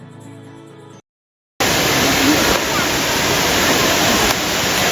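Abbey Falls waterfall in Coorg roars as a loud, steady broadband rush of falling water that starts abruptly after brief music and a moment of silence, then continues unbroken.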